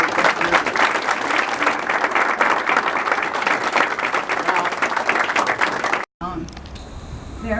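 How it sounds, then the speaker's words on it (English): An audience applauding at a police officers' swearing-in ceremony, a dense, loud wash of clapping for about six seconds, then a brief cut. "Please give a round of applause for her."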